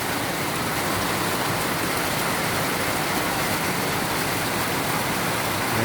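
Heavy rain pours down in a loud, unbroken hiss during stormy weather, dense and close with no breaks and no voices.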